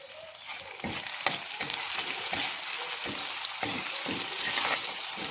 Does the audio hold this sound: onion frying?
yes